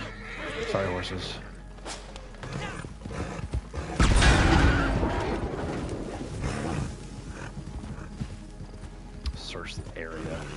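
Horses in the Red Dead Online video game neigh and whinny loudly, with hoof clip-clop and a burst of action noise in the middle, all mixed with a busy game soundscape.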